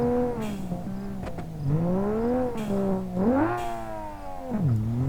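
A car's engine in BeamNG.Drive revs and eases off in rising and falling sweeps, with several sharp exhaust afterfire pops cracking out as it decelerates.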